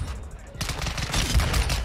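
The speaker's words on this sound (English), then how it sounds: "Wait, where's the recoil? Oh my god, these pistols are fucking dope." Rapid gunfire from MK2 Lockwood pistols in a video game bursts in after a brief lull and continues as a fast, dense volley of shots, with a voice partly underneath.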